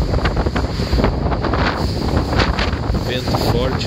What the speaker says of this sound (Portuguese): Vento forte aqui.